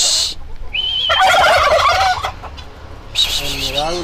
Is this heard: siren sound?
no